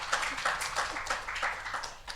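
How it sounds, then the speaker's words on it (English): Hand claps at a policy side event on an integrated area-based approach, a handful of sharp, somewhat irregular claps from one or a few people, moderately close, with no talking over them. "Someone was clapping"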